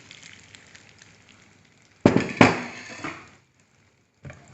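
Beaten egg mixture hits a hot buttered pan and bursts into a loud sizzle that fades over about a second, with a faint scraping tap after a pause.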